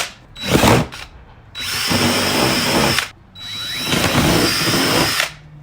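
Power drill with a 27/64 bit enlarging holes in a Jeep Wrangler JL tailgate, three loud whining bursts of boring, the first short and the next two longer and sustained, separated by brief pauses.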